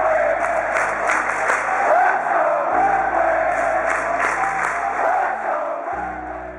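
A hockey crowd at Olympia Stadium, home of the Detroit Red Wings, roars and cheers in a dense, loud wash of voices and applause that holds steady for several seconds before easing slightly.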